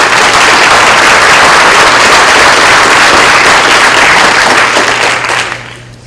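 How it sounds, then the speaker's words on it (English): A seminar audience gives a panel a big round of applause, dense sustained clapping filling the room loudly before trailing off near the end. "Let's give our panel a big round of applause"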